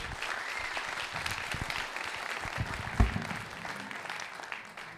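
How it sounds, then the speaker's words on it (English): A small audience at a Grow Omaha talk gives a round of applause for guest Jeff Beals. The clapping is steady and fairly faint, with one sharp knock midway, and it tapers off toward the end. "can we get a big round of applause for Thank Jeff?"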